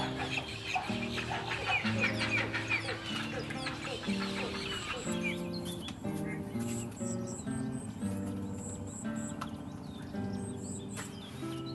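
Young little egrets calling for food in a Xuan Thuy National Park mangrove swamp, a dense, continuous chorus of harsh, clucking squawks from many birds at once, loud and steady.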